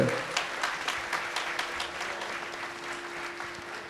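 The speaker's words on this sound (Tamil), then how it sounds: "பெரிய கைத்தட்டு கொடுக்கலாமே" An audience at a Radha Kalyanam mahotsavam in Vellore applauds, a thick, continuous patter of clapping that is loudest at the start and gradually tapers, with a steady tone humming beneath.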